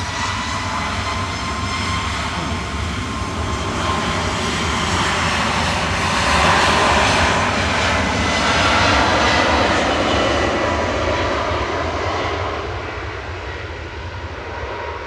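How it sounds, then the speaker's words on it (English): A Boeing 757 passes with a sustained, loud jet engine roar that swells toward the middle and slowly eases, heard alone at an airport without talk. "Another 757."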